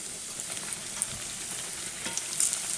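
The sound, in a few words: Berlin doughnuts (bola de Berlim) frying in hot oil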